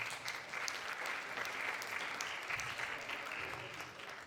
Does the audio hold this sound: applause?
yes